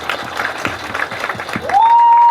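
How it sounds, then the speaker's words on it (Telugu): Applause from the audience at a press meet for the film Therachapa, a scattered round of clapping that fades as a sustained electronic tone rises and holds near the end. "and big clap for తెరచాపా please"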